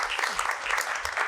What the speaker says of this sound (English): Please join me in a round of applause for our area superintendents today.